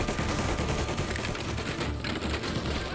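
Dense, sustained gunfire fills a shootout in Mafia Definitive Edition, loud and continuous with rapid overlapping shots throughout and no talking.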